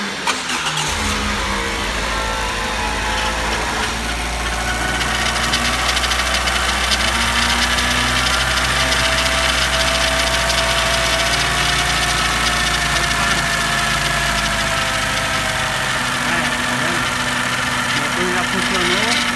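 A Ford Fusion that previously started rough and ran out of time cranks and settles into a steady idle, with the engine droning loudly and continuously close to the microphone while people talk over it.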